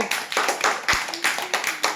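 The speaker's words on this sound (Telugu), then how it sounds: "పిల్లలు వీళ్ళ క్లాప్స్ కొట్టండి" Children clap together in a classroom, a quick run of sharp, fairly close hand claps in an uneven rhythm lasting about two seconds.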